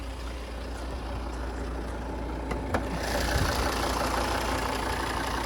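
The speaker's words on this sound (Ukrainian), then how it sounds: "Двигун працює дуже приємно. Зараз чуєте." A 2017 Volvo XC60 2.4-litre diesel idles with the hood open, a steady close-up engine drone with a low rumble that holds even throughout, with no talk over it.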